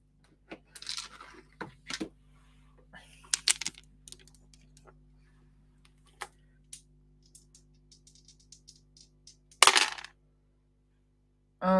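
Dice rattle and clatter across a hard surface with scattered light clicks and taps, then a louder burst of tumbling near the end, close and without talk.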